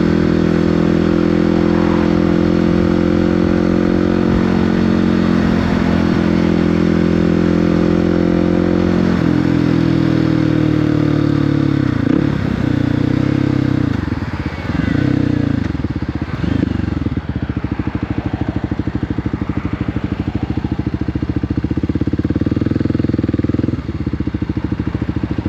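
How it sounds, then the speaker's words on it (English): A Kawasaki Z650 motorcycle rides along a city street, its engine humming steadily and close throughout, with gear changes and rising and falling revs partway through, plus faint clatter and wind. "Now I got a Kawasaki Z652."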